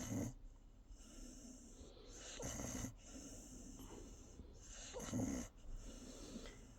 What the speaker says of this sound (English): Listen to Benji snoring